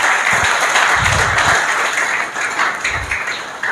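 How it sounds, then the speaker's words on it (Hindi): Loud, continuous audience clapping at a college award ceremony, a dense room-filling roar of hands with a few heavier thumps mixed in. "एक बार जोरदार तालियां होनी चाहिए,"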